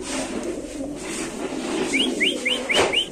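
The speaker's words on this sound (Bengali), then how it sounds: "তো দর্শক এখানে আছে এক জোড়া কবুতর।" A newly mated pair of Golla pigeons, kept as a breeding pair, with soft cooing under steady background noise and a short run of five bright, rising chirps toward the end.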